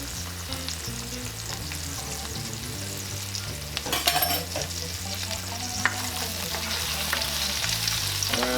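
Chopped garlic added to onions that are already softened in a pan, with a steady, close sizzle and frying crackle and a few stirring clatters partway through, no talking.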